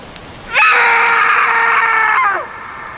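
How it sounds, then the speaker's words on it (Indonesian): A man in a film scene lets out one long, loud, sustained scream lasting nearly two seconds, rising abruptly out of quiet and cutting off sharply. "Dia pun teriak di situ."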